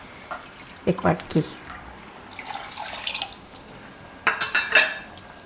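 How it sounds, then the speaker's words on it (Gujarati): Water splashes and gurgles into a cooking pot holding jowar flour and yogurt for raab, coming in short bursts with clinks of a bowl and utensils; a voice speaks briefly between the pours. "હવે એમાં પાણી નાખી દેવું આપણે"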